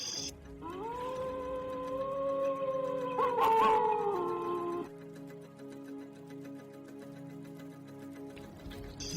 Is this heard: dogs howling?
yes